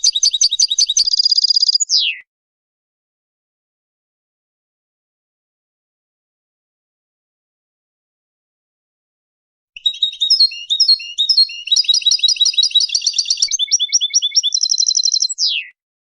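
Cage birds sing in two bursts of bright, rapid chirps and warbling trills, loud and close, separated by a long silent gap.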